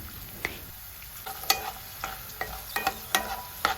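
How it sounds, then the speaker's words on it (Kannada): Small potato pieces and fresh peas fry in oil in a pan over medium flame, a soft sizzle under repeated close scrapes and clacks of a stirring spoon, and no voices. "ಹಾಗೆ ಹಸಿ ಬಟಾಣಿನ ಹಾಕಿ ಮೀಡಿಯಂ ಫ್ಲೇಮ್ನಲ್ಲಿಟ್ಟು ಚೆನ್ನಾಗಿ ಫ್ರೈ ಮಾಡಿಕೊಳ್ಳಿ"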